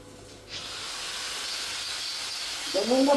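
A TIG torch hisses steadily while laying a root pass on a pipe in the 6G position. The smooth, continuous hiss starts after about half a second and carries through, with a faint tonal whine creeping in at the end.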